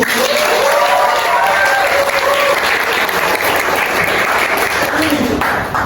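Students and audience applaud in a classroom, a loud, continuous, dense clapping that lasts the whole stretch. Faint voices show through the clapping.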